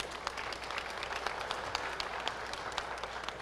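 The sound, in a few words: audience applause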